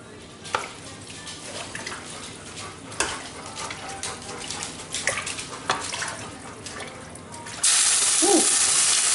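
Water pours steadily from a tap near the end, a loud rushing hiss after a stretch of quieter kitchen clatter and scattered taps.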